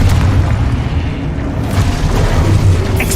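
A Confringo spell blast exploding in the video game Hogwarts Legacy: a loud, sustained boom with a heavy low rumble that rolls on steadily, with no talking.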